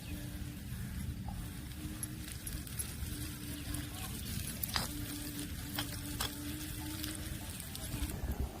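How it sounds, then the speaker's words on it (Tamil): Ginger garlic paste sautéing in a pan during a crab and fish curry, a steady low sizzle and stirring scrape running throughout with occasional sharper clicks, close and moderately quiet, no voices. "இப்போ இஞ்சி பூண்டு பேஸ்ட் போட்டு வதக்கிக்கலாம்"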